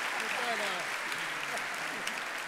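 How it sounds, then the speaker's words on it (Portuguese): Applause from a church congregation at a service, a loud, sustained clapping that runs through under a voice and crowd chatter. "Vamos aplaudir aí, que esse é guerreiro."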